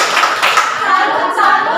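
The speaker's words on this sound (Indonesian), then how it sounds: "Mari kita berikan tepuk salut untuk mereka ya." Classroom of students doing a rhythmic chanted clapping cheer, with short bursts of claps mixed with loud voices chanting along in time.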